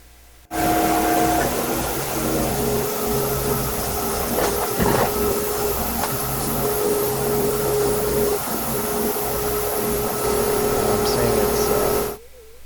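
A CNC mill bit cuts through an LCD window piece into the wood underneath, giving a steady loud whirring, grinding hiss with a high tonal whine that starts abruptly and stops abruptly, with no voice heard.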